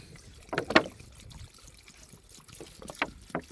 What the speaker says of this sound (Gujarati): તો હવે નાખી દઈએ પાણી